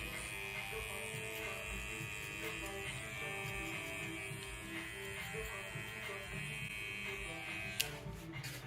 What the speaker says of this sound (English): Trimmer.